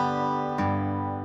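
A guitar plays a single sustained bass note, then a strum rings out across the strings and decays, quiet and close, with no talk.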